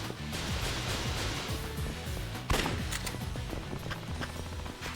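Rapid video game gunfire crackles in dense bursts, a steady barrage of shots with a sharper, louder report midway through.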